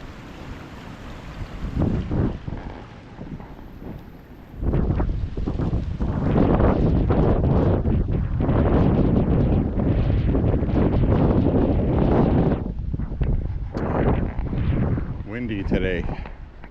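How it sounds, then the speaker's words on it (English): Strong wind buffets the microphone in heavy, roaring gusts that rise and fall on a cold December walk, with a voice speaking faintly underneath. "Windy today."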